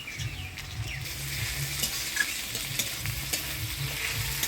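Onions frying in a pan for a Bengali fish curry, with tomatoes going in: a steady close sizzle with stirring scrapes throughout, no talking.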